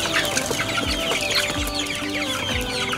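Desi-type BAU chicken breed clucking on a farm, several hens giving overlapping close clucks and short calls continuously, a busy flock with no speech.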